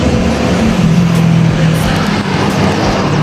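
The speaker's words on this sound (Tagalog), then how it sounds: "Sasakyan." A car or other motor vehicle passes close by on a road at dusk, a loud continuous engine rumble with a shifting tone that sweeps through over three seconds.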